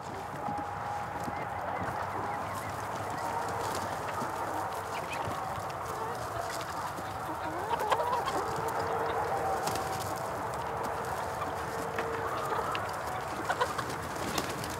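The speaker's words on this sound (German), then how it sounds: "führen die Legehennen vom Pekelshof ein friedliches Hühnerleben" Laying hens on a farm beside the A3 autobahn call in a steady mix of clucks and honking bird voices, moderately near, over a constant roar of motorway traffic, with no talk.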